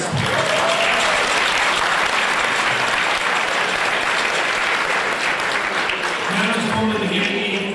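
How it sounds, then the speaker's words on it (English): A large crowd at an art auction gala in the Beverly Wilshire Hotel, Beverly Hills, applauds loudly and continuously, a dense wash of clapping that holds steady throughout with a few voices mixed in. "please give a huge round of applause to all of our sponsors this evening"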